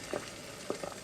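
Chocolate bubbling in an AICOK electric fondue pot, a soft steady sizzling hiss with a few faint pops and bursts, close and quiet, no voices.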